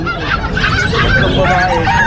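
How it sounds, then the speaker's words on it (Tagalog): Chickens at the Bocaue pet market, a loud, continuous chorus of clucking and honking calls close by, with dense overlapping squawks throughout and no talking. "Marami rito guys, mga manok."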